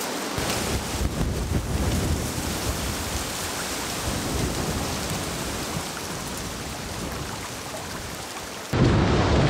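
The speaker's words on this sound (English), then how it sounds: "Listen to that wind." Strong wind roars through canyon country in Utah's Escalante area, a steady, dense broadband rush that buffets the microphone and drops away briefly near the end.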